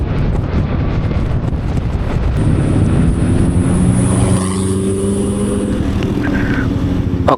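Motorcycle engine accelerating on a road at night on the southern route toward Pangandaran, a rising engine tone through the gears under heavy rushing wind noise, steady and close.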